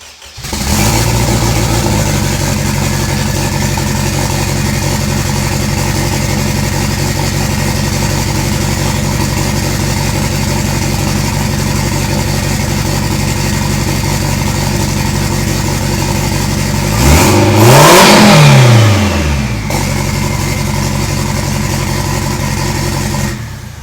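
A K-swapped car engine fitted with an eBay turbo runs steadily and loudly, then revs up sharply near the end with a rising and falling whine as the turbo spools, before settling back to a steady idle.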